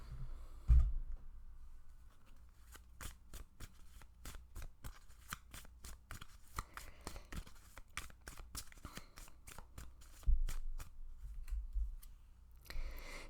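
Tarot cards are riffled and shuffled in a rapid series of crisp, closely spaced snaps, with softer handling rustles at the start and end, close and fairly quiet with no talking.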